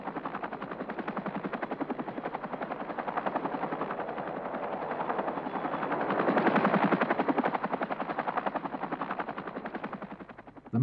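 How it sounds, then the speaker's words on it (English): An attack helicopter fires its chin-mounted rapid-fire rotary 20 or 30mm cannon, producing a dense, continuous mechanical rattle over the steady rotor drone that swells midway and then eases, with no voices. "the crew do have a chin-mounted fast-firing rotary 20 or 30mm cannon, which is guaranteed to keep the enemy's heads down"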